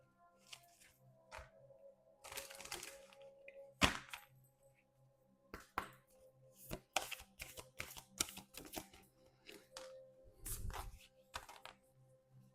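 An oracle card deck being shuffled and cards drawn by hand, with crisp riffling bursts and sharp slaps spread irregularly over the stretch, close and fairly clear, no talking.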